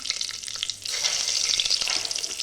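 Whole cloves, cinnamon, cardamom and bay leaf sizzle steadily in hot oil for chicken biryani, a close, continuous crackling fry with no voices.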